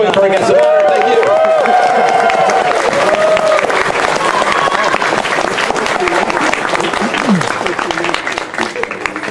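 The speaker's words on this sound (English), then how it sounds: "Keep that applause going for our guests." Loud, sustained audience clapping at a 2023 WCPC opening ceremony as honored guests exit the stage, with music and some voices underneath, easing slightly near the end.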